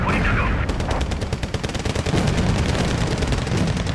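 Rapid, dense gunfire from North Korean units in the Wargame: Red Dragon video game, a loud barrage of overlapping bursts after a brief quieter opening.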